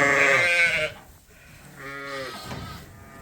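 Several sheep bleat loudly and close by as they are led out of their home into the snow on a farm, one long wavering call followed by a brief pause and then further bleats.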